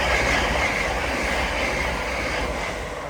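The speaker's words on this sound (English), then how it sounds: "passing through now is a duo of Class 379 en route to Cambridge" A pair of Class 379 electric trains rushes through Alexandra Palace station on the East Coast Main Line, a loud, steady broadband roar of passing rail cars that holds for a few seconds and begins to ease at the end.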